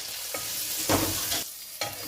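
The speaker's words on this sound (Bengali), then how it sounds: "মশলাটা আমার কষানো হয়ে গেছে" Masala of tomato, salt, turmeric and fried cumin being stirred and fried in a pan, with steady sizzling and a few louder scraping stirs, close and alone without talk.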